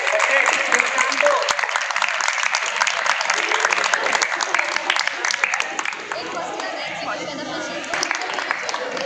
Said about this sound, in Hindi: ये तालियां क्यों रुकी जा रही हैं?